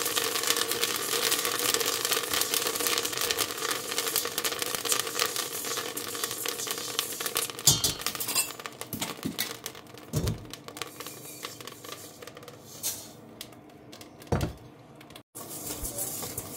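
Puffed rice roasting with salt in a pot, giving a dense, continuous crackling patter like rapid ticking, with a few louder clatters and brief breaks near the end.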